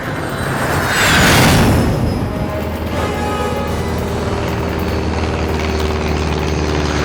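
A loud aircraft roars past overhead, swelling to a peak then settling into a steady low engine drone with a faint whine.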